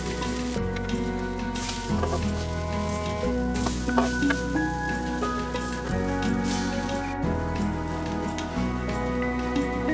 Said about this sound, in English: you're going to put them on your pan or griddle